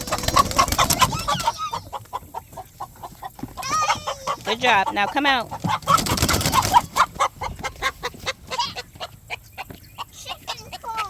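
Backyard chickens cluck and squawk loudly in bursts while one is grabbed and handled near a coop, the agitated calls coming close and repeated, with people talking briefly between them.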